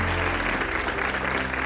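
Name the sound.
studio audience applause for two guests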